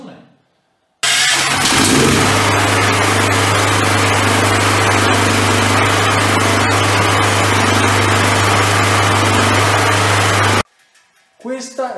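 A 6 kW generator with a 600 cc engine cranks and catches, then settles into a loud, steady mechanical drone that runs for several seconds before cutting off abruptly.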